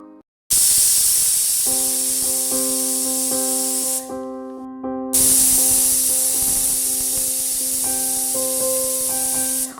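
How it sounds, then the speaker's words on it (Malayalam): Steam from a pressure cooker used to cook purple yam (kachil) hisses steadily and loudly for several seconds, briefly cutting out midway before resuming, with no talk. "കുക്കറിൻ്റെ ആവിയൊക്കെ പൂർണ്ണമായിട്ടും പോകണ നേരം"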